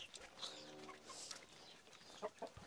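Chickens kept at a family home cluck faintly in short, soft calls that come early and again near the end, heard quietly as if from a little distance.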